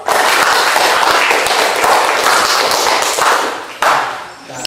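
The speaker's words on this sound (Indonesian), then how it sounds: "Oke, kita kasih aplaus untuk kelompok 2." A classroom audience of students applauds a presenting discussion group, a dense, steady burst of clapping that stays loud for several seconds, briefly dips, then swells again before tapering off.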